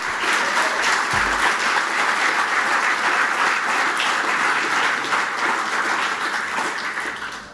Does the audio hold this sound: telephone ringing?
no